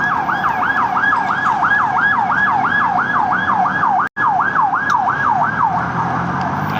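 An ambulance siren wailing through a city after a drone strike, a loud, fast rising-and-falling yelp repeating steadily, with a brief dropout midway and no talking.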